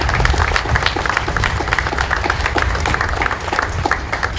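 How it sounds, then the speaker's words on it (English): A crowd gathered outdoors at a Cape Verdean flag raising gives a loud round of applause, close and thick with rapid overlapping claps, steady throughout. "I would just ask everybody to join me in a round of applause"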